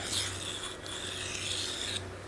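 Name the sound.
blade being sharpened on a Naniwa Superstone 400 water stone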